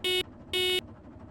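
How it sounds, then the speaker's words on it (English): Two short electronic car horn honks in the DeliveryRush video game demo, bright buzzy tones of about a quarter second each, separated by a brief gap, close and clean. "We have a horn also"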